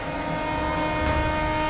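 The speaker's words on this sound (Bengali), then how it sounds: "ঠিক এমন সময় তাদের কানে এলো ট্রেনের রাত জাগানো হর্নের শব্দ" An express train sounds its horn at night as it pulls in, a steady, sustained tonal blare holding for the whole moment over a low rumble of rail noise, with no voices.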